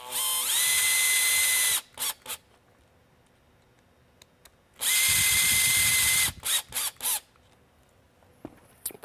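Small Phillips head screws being driven into a Whelen Perimeter Enhancement light housing with a power screwdriver: two whirring bursts of rising pitch, each followed by short clicks and handling noises, close up and without talk.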